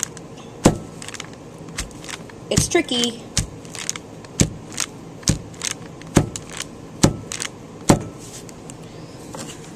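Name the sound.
slip-cast clay mold tapped on a table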